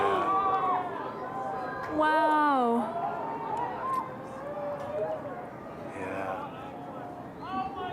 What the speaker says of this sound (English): You can hear people screaming in the background